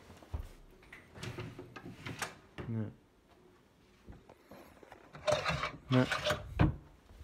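Hotel room drawers being opened and closed, a few quiet wooden slides and knocks close by, mixed with short spoken remarks.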